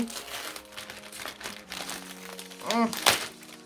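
Close crinkling and rustling of plastic packaging as an AliExpress parcel is handled and torn open, with a few sharp crackles near the end.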